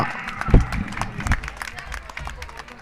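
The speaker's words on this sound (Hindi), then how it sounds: "जोरदार तालियों के गड़गड़ाहट से अभिनंदन करते रहे हैं इनका" Applause breaks out at a 75th Republic Day ceremony in Kotputli, with scattered hand claps mixed into crowd murmur and voices talking over it.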